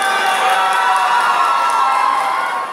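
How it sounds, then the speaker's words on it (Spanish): Crowd cheering and whooping at a pageant crowning the queen of a pineapple fair, a steady, loud wash of voices with shouts and some applause holding for about three seconds. "¡Fuerte la porra y el aplauso,"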